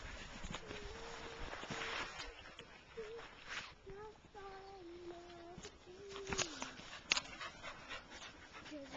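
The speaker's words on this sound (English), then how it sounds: "Your dog just stole it off my dog." Border Collies and a Spaniel playing with hoops outdoors, with panting, brief whimpers and scuffling footsteps in a quiet field while a person talks intermittently nearby.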